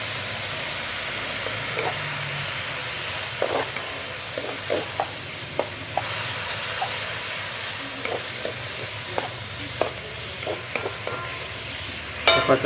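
Beef stir-fries with mirin and a little stock for a Japanese beef rice bowl, a soft steady sizzle under scattered spatula taps and scrapes, close but fairly quiet, with a sharper clatter at the end.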